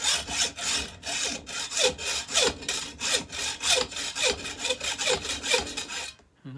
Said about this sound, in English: It doesn't take much just to take off a bit of screw.